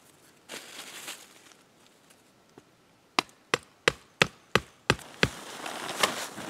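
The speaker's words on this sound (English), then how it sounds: "I'm just lightly tapping it down in there" Eight evenly spaced, sharp wooden taps ring out close by as a shelter corner is lightly tapped down outdoors, after a few quieter rustles.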